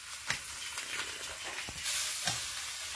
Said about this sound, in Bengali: আলুটা ভালো করে কষিয়ে নিতে হবে